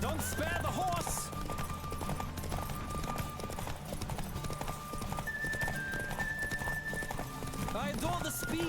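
Horse hooves gallop in steady rapid clip-clop through The Witcher 3, with occasional neighs and game music underneath, while voices speak over the ride.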